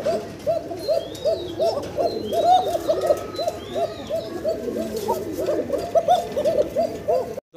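Pigeons, including black Lahori birds in breeding mode, coo steadily and close by, with overlapping rhythmic throaty calls that continue throughout and no talking.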